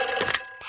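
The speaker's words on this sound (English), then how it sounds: "It's the fire phone." A fire station telephone ringing in the Peppa Pig cartoon, a short, bright, trilling electronic ring heard clearly on its own.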